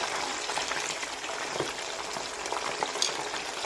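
Pork belly frying skin side down in hot oil: a steady, close, dense sizzle and bubbling with occasional small pops, no talking.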